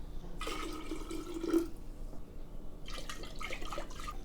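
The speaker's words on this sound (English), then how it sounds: "I'm gonna start with some of the brine in here" Beet brine poured into a glass jar of julienned beets, a short trickling splash of liquid in two bursts, close and soft, with faint background noise.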